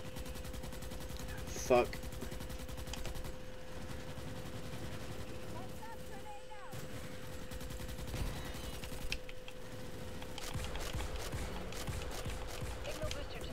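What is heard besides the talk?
hip-fired gunfire in Starship Troopers video game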